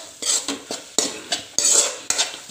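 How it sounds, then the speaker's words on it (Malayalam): Masala fries in coconut oil in a pan for a chicken curry, with rhythmic scraping strokes of a spoon against the pan over a light sizzle, about six close, distinct stirring scrapes. "അപ്പം ആ വെളിച്ചെണ്ണയിൽ കിടന്നവൻ മസാല ഒന്ന് മൂക്കട്ടെ."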